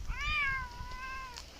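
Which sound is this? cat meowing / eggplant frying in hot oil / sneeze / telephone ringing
cat meowing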